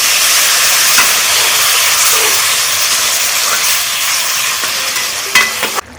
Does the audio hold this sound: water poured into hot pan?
yes